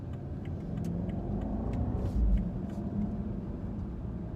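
A 2017 BMW 750i xDrive engine hums steadily from inside the cabin, rising gently as it accelerates at half throttle from 0 to 40, with a low rumble and a brief thump midway.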